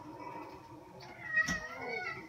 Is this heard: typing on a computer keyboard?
no